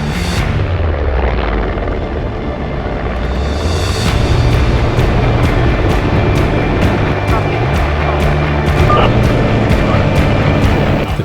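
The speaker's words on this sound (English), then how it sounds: "The chopper pilot took us out over Lake Eildon to a headland where he gently lowered us down" A helicopter flies over Lake Eildon carrying a Ducati motorcycle slung below on a cable, its loud, close rotor thump and turbine whine continuous throughout, with regular blade slaps growing more distinct partway through.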